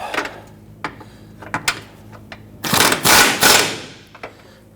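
A ratchet snugging down the rear bolt of a front control arm on a 2017-2020 Hyundai Elantra, scattered clicks and clanks building to a loud burst of rapid ratcheting, then fading.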